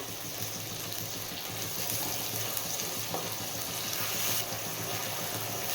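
Pointed gourd (potol) curry sautéing in a pan, giving a steady broad sizzle with faint stirring scrapes throughout, fairly close and continuous, with no talk over it.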